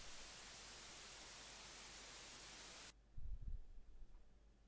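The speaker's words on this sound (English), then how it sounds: "White noise is spread evenly over spectrum" Loud, even white noise hisses alone for about three seconds as part of a harmonica recording in a music production noise gate demonstration, then cuts off abruptly, leaving a brief low rumble and quiet tail.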